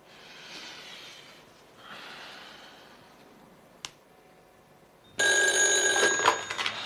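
A telephone rings for an incoming call in a quiet room, a loud sustained electronic ring starting after several seconds of near silence with faint breathing-like noises.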